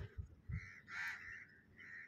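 Crows cawing in a park, a few faint, hoarse calls in short bursts, one louder caw in the middle, heard from a distance.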